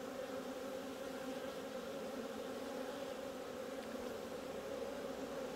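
Honeybees buzzing over a brood frame lifted from an open hive make a steady, dense, continuous hum, close and unbroken throughout, with no voices.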